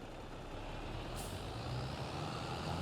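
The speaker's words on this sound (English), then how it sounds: "let's jump onto our New Holland tractor." A New Holland tractor engine in a farming video game gives a steady, loud rumble throughout, with a brief hiss of air partway through.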